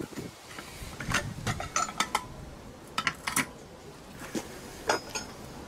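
Parts of a Honda Forza 125 scooter clutch are screwed together by hand, small metallic clicks and ratcheting taps arriving in irregular bursts, close and fairly quiet.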